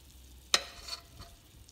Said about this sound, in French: Je vais verser ma préparation pour gâteau.